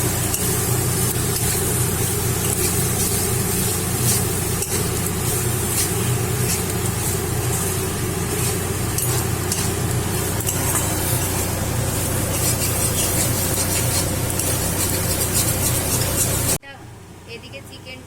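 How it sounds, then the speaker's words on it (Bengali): Chicken pieces being slowly sautéed in a pan for pakora, giving a steady, loud broadband sizzle that runs continuously for most of the clip before cutting off abruptly near the end. "এদিকে চিকেনটা কষানো হচ্ছে আস্তে আস্তে"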